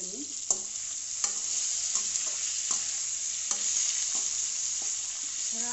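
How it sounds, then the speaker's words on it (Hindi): Tomatoes and potatoes fry in a pan for a Manipuri-style fish curry, a bright steady sizzle broken by repeated scraping stirs of a spatula at close range, without speech. "थोड़ा टमाटर नरम होने तक हम उसको फ्राई करेंगे आलू भी साथ साथ पक जाएगी"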